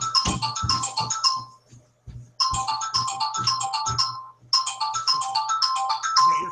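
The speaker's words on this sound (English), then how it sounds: "Is that your phone?" A phone ringtone plays loud and close as three bursts of a bright repeating melody separated by short pauses, alone without talk.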